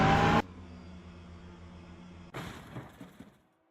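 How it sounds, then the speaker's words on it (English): Hypercar engines in a virtual endurance racing game: a short loud engine roar that cuts to a low idling drone, then a rougher rattling burst of engine noise that fades out. "Those hypercars just sound so terrible."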